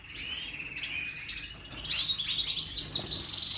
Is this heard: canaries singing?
yes